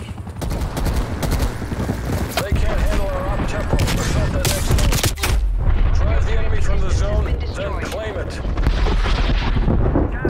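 Rapid artillery barrage from a called-in kill streak in a first-person shooter match, heavy booming blasts and crackling gunfire rolling continuously and loudly throughout, with a voice talking intermittently underneath.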